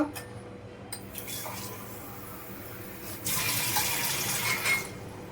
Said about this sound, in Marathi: इकडे टाकूया या कढईमध्ये पाणी उकडसाठी